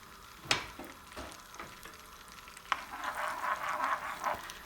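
Butter melts in a hot pan as oil is poured in, giving a soft, rising sizzle after a couple of sharp clinks, growing into a steady crackle by the end.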